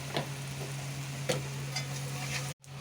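Jute greens frying in oil with onion, garlic and turmeric, a quiet, steady crackle with a few soft stirring scrapes over a low hum, then a brief drop to silence near the end.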